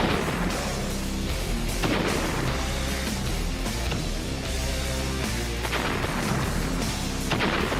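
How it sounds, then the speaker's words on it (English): A 140-gun American artillery barrage in the WW2 Pacific war keeps up a dense, continuous rumble of overlapping booms and blasts, loud and unbroken throughout, with no voices. "American soldiers unleash a 140-gun artillery barrage."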